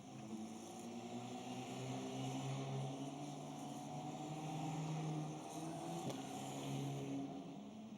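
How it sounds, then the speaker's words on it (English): Formula Regional race cars idle and roll out onto the Monza circuit, their engines humming at a steady, moderate distance with a slow rise and fall in tone throughout. "Cars just making their way out onto the circuit now."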